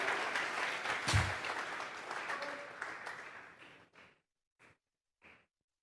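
A church congregation claps together during a Bible study service, the applause tapering off over a few seconds into a handful of scattered final claps.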